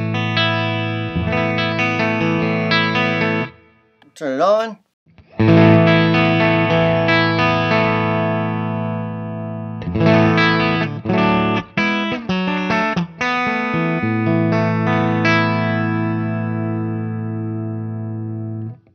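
Electric guitar played through a clean clone pedal circuit built on a breadboard, with sustained chords and single notes ringing with effect and a brief pitch-bending squeal, loud and mostly alone apart from a short spoken phrase.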